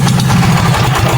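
A Wheel Horse C-175 riding mower's small engine runs steadily and loudly up close, a rough, even throbbing idle with no voices over it.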